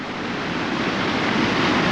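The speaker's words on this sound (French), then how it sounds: "Le bruit de la cascade juste à côté." Waterfall in Guadeloupe close by, a steady broadband rush of falling water, loud and even, growing slightly louder, with no voices.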